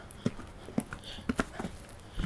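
A mare's hooves striking arena ground during riding, a sparse irregular series of soft thuds, moderately near and fairly quiet, with no talk over them.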